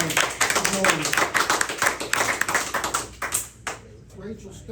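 Applause from the audience at a Logan County Board zoning meeting, a steady patter of many hands clapping that fades out near the end, with a voice speaking over it.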